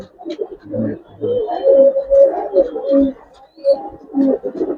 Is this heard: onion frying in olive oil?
no